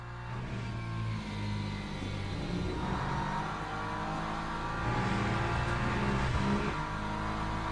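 A race car engine in Le Mans Ultimate revs and pulls through gears, rising and falling whine with shifts, loud and close, with tire and wind noise underneath.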